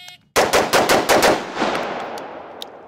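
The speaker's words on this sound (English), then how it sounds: "We want to make sure we're shooting two shots, driving the gun, two shots, driving the gun, two shots." Rifle shots crack loudly and close in a rapid 2x2x2 drill, six sharp reports in quick succession with short gaps, followed by a fading echo.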